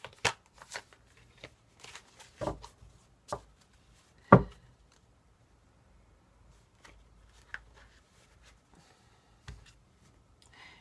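A deck of oracle cards being shuffled by hand in a quiet room, heard as scattered soft riffles and sharp card snaps at irregular intervals with long near-silent gaps, close and fairly faint.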